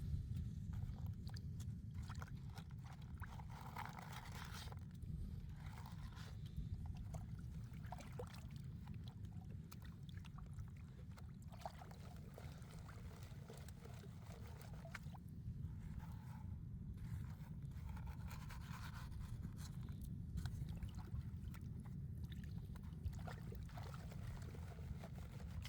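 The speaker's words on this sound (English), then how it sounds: "Rinsing off these really big character rocks" Water pours and splashes steadily over large character rocks on a southern Oregon coast beach, a continuous close rushing wash with no pauses or voices.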